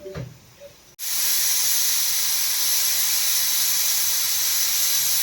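Steam hisses loud and steady from a pressure cooker on a gas stove after a short quiet start, a bright continuous rush that runs unbroken to the end.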